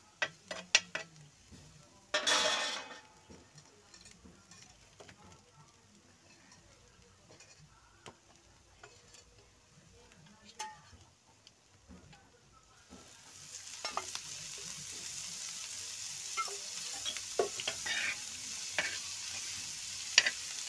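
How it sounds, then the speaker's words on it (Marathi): Bitter gourd frying in oil on a griddle, with a quiet sizzle broken by scattered spatula scrapes and taps, one sharp burst early on, and the hiss growing louder and steadier in the second half. "कारले चांगले होऊ द्यायचे. मस्त तेलात थोडे वाफवून घ्यायचे त्यांना."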